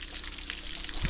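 Water runs steadily for a children's outdoor shower in a village, a soft continuous trickle and splash with a louder low splatter near the end and no talk.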